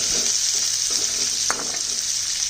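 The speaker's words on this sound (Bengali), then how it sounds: "পেঁয়াজটা একটু গোলাপি করে ভেজে নিই।" Onion frying in hot oil for Chinese fried rice, a steady close sizzle with a few brief stirring scrapes, no voices.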